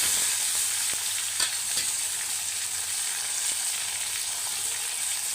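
Tomatoes and curry leaves are sautéed in a pan, giving a continuous soft sizzle with occasional faint scrapes of a spatula, steady and close, no voices.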